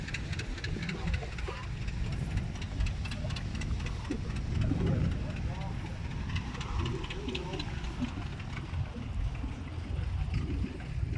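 A John Deere D tractor engine runs steadily at a steam era show, a continuous low rumble with hiss and crowd noise mixed in, loud and close for the whole stretch.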